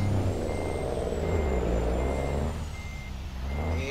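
Reversing beeps from a truck in the driving game American Truck Simulator, a steady repeating electronic tone over a loud low engine drone, with a brief air-brake hiss near the end.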